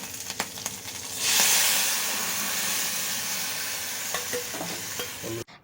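Boiled flowers cooked with tamarind are poured into a hot pan, setting off a sudden loud sizzle and hiss that holds steadily for several seconds before fading, with light stirring clatter near the end.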